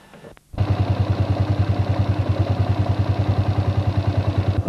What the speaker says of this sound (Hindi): इस बर्फ भरे रास्ते पर मोटरसाइकिल चलाने में हमको काफी परेशानी का सामना करना पड़ा